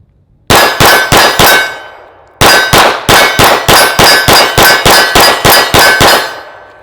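Rapid hits from an S&W M&P 2.0 5-inch FDE pistol ring a steel target at a range. A short string of four clangs is followed by a longer fast string of about eleven sharp, ringing impacts, all loud and close.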